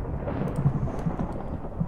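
Rumbling thunder with steady rain in a Minecraft thunderstorm, a continuous low roll filling the short stretch at fairly loud level, with no talk over it.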